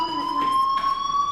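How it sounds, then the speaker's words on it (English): A fire alarm rings in the Life is Strange video game, a loud steady electronic tone that holds throughout with brief noisy swells behind it. "Hey, do you hear that fire alarm?"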